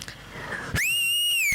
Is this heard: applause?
no